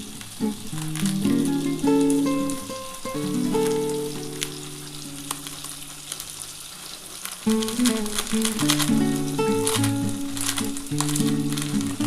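Cumin powder sizzling in a pan of frying beans and potatoes, a steady close crackle that runs throughout, with stirring clatter mixed in and no talk.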